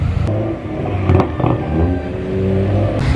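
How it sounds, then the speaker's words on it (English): Cars arrive at a supercar meet, with engines rumbling and revving nearby, including a BMW M4 F82 with a straight-piped exhaust, under a steady low drone and occasional sharper bursts. "We got some more cars pulling in."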